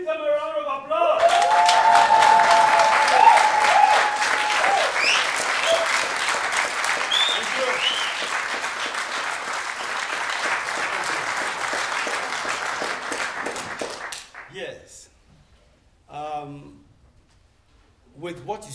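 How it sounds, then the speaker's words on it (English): An audience at a theatre performance by the Abibigromma company breaks into sustained, dense applause that lasts over ten seconds and then fades out, followed by people speaking. "give them a round of applause"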